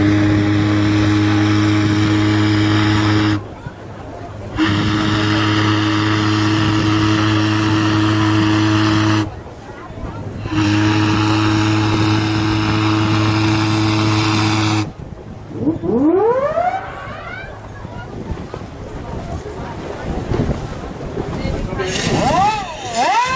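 The 1938 steam icebreaker Vaal, built for ice-breaking service on the Kiel Canal, sounds a loud steady harmonic tone in long blasts separated by short pauses, then a stretch of rushing wind and rising and falling tones.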